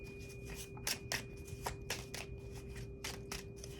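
Tarot cards being shuffled by hand, a soft continuous riffle of flicking, rustling card edges with small irregular bursts, close but quiet over a steady low hum.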